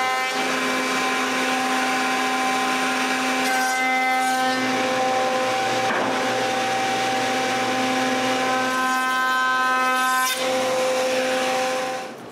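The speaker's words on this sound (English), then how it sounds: "Now I can use this round over a bit to profile the top." A router fitted with a round-over bit profiles the edge of a wooden top for a shop chest of drawers, a loud steady high whine with cutting noise that dips briefly twice as the bit moves along the wood.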